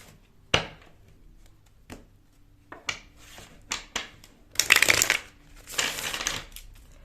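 Tarot cards being shuffled and handled, with sharp clicks and taps followed by two dense, riffling bursts of card noise, fairly close, with no talking.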